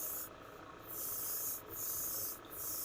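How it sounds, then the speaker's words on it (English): A spray gun hisses steadily as it lays Gaahleri Kaleido Colorworks primer in black onto a spoon at 20 pounds with a .05 needle, the close airflow breaking off in three brief pauses. "I'm spraying this at 20 pounds with a number 5 needle"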